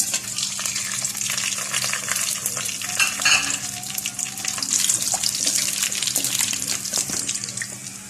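Whole spices fry in hot oil for chicken dum biryani with a loud, continuous sizzle and crackle, broken by occasional stirring scrapes.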